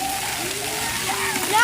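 Water pours and patters from a raining tree at an outdoor splash pad, a soft continuous splashing with a voice speaking over it.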